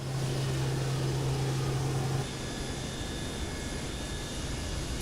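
Steady, broadband engine roar of a Boeing 727-200F freighter taxiing at Sydney in Microsoft Flight Simulator 2024, a low hum that drops away after two seconds, leaving a continuous even whine and rumble, no talking.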